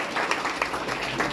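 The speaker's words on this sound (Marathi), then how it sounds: "जोरदार टाळ्या वाजवून आपण पुन्हा एकदा जोरदार टाळ्या वाजवा." An audience at a student guidance talk claps in a dense, steady burst of applause that stays even through the short stretch, with no voices standing out.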